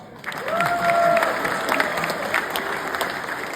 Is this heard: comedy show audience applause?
yes